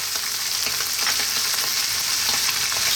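Onion and garlic frying hard in a pan over high heat, a steady dense sizzle with crackling spits throughout, close and fairly loud, with no talking.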